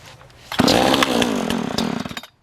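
A Chinese 52cc gas chainsaw starts up close by, its engine catching after a quiet moment and settling into a loud, steady buzzing idle before dropping away at the end.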